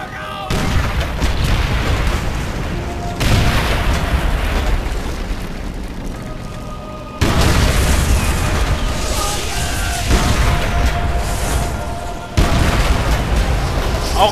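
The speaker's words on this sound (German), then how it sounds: "In die Luft sprengen" Repeated heavy explosions in Call of Duty: World at War, long booming blasts rolling one after another, loud and close, with gunfire mixed into the battle noise.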